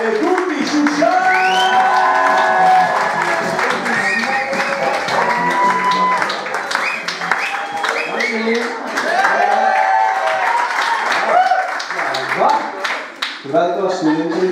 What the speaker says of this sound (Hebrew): הרבה, הרבה, כפיים